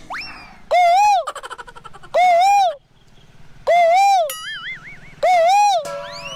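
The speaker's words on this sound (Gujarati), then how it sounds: "પણ કોયલ કેવું મીઠું બોલે." An Asian koel repeats a loud, rising whistled call in four evenly spaced bursts, close by, with fainter chirps and warbles filling the gaps.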